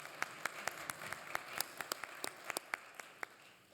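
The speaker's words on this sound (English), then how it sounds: "I think we can applaud him" A quiz audience gives a participant a sparse, light round of applause, with a few separate hand claps spread irregularly and heard from a moderate distance.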